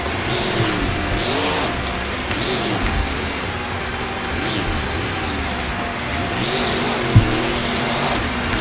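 Monster truck engines rev and roar at a Monster Jam freestyle event in an El Paso arena, a steady loud drone with rising and falling pitch sweeps, one sharp bang near the end, and faint crowd noise beneath.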